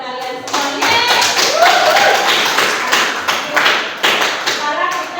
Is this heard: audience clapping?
yes